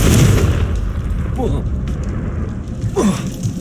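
A Confringo blasting spell goes off in Hogwarts Legacy as a deep, booming explosion with rumbling low end, followed by a second burst, while a voice speaks briefly over it.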